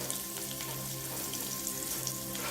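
Spices splutter in hot oil for a methi and black chickpea curry, a dense continuous crackle and hiss, steady and close, with no voices.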